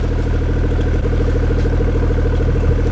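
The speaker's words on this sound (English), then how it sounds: "Listen to that idle." A BMW X3 M40i idles in snowy conditions, a steady close, loud engine hum with an even pulsing rhythm throughout and no talking.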